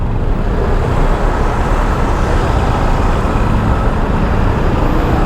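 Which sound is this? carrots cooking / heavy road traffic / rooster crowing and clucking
heavy road traffic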